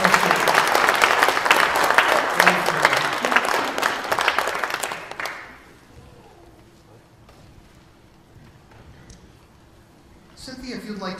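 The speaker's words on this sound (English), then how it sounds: "Give them a clap." Church congregation at a Methodist service applauding, a loud dense burst of clapping for about five seconds that cuts off abruptly, followed by a quiet room and a voice starting to speak.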